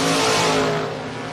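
Drag race cars, a Roadster and a '68 Dodge Dart, launching together with a loud sustained engine roar that fades slightly as they pull away.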